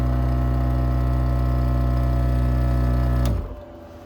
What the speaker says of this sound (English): Oh, the onboard air compressor, that's got to be on there on the top 10 list.